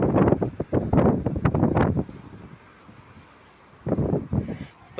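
Strong wind gusting along a seaside promenade on a warm day, buffeting the microphone in loud rumbling bursts, dropping to a lull and then picking up again.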